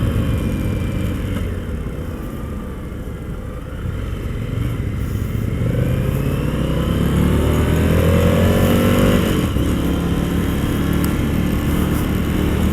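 A Triumph FTR1200 motorcycle engine accelerates hard in sport mode on a demo ride, rising through the revs with a loud, close throaty roar that climbs steadily, drops briefly at a gear change, then pulls again.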